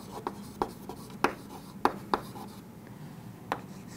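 Chalk or marker tapping and scratching on a board during a maths lesson on conic sections, a series of short sharp strokes spaced irregularly, close and fairly quiet, with no talk.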